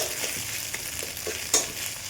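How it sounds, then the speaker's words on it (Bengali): Eggs stir-fried into crumbly bits in oil in a kadai make a soft steady sizzle, broken by periodic scrapes of a spatula against the pan and one sharper clink. "এবার ডিমটা ভেজে নেব"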